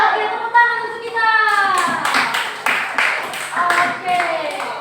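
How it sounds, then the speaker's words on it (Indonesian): Hands clapping in an elementary school classroom, sharp, rhythmic claps in short rapid groups, heard close alongside a voice speaking and some children's chatter. "Oke, tepuk tangan untuk kita."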